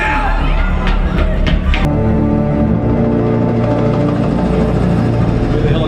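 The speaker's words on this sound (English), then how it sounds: "The helicopter." Helicopter from The Dark Knight played back through an Atlantic Technology 8200 THX home theater speaker system, a loud sustained rotor and engine rumble with heavy low end, mixed with other movie sound effects and brief sharp transients early on.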